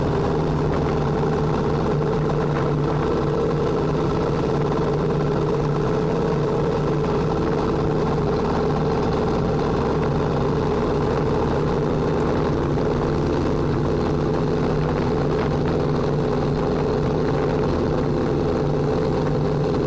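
A BSA B31 motorcycle engine rolls along steadily in second gear through a 20 mph village street, a continuous low, even thrum with wind rush and no talk.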